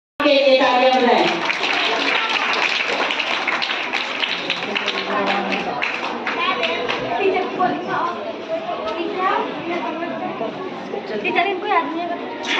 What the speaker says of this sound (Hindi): शुक्रिया सर के लिए तालियां बजाएं।